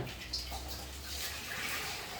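Water leaks and splashes softly while a fish tank is being cleaned, a faint continuous wash with small trickling sounds.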